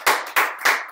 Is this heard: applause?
yes